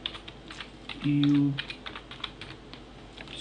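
Light clicks of a computer keyboard tap irregularly at close range during a Photoshop session, interrupted by a short spoken word partway through.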